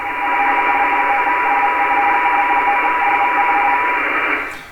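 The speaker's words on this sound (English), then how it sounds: "RTTY sounds like you could hear that there's two frequencies in the signal" A radio teletype (RTTY) signal on shortwave radio, two close steady tones in a dense band of static-like data noise, loud and continuous for several seconds before cutting off, with no voices.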